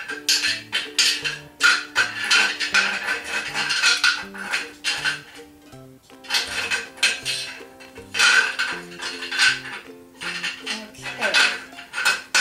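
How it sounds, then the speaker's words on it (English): Large rocks clatter and knock into the bottom of a kitchen herb planter, a dense run of hard clinks and scrapes in several bursts with short pauses, close and fairly loud. "I'm going to start by placing some large rocks in the bottom to aid in the draining"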